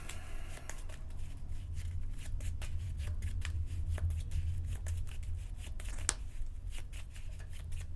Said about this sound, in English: Yeah, I just have to like shuffle.